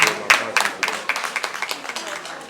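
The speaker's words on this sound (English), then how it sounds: "I didn't like that clap" Audience clapping at a maths festival, a ragged run of individual claps that starts strong and tapers off, with some voices mixed in.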